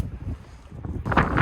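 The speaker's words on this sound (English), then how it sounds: "it is windy and I don't know how much you'll hear" Gusty wind blowing outdoors during roadside car repair work on an ignition and electrical fault, buffeting the microphone with low rumble that swells into a louder, harsher gust near the end.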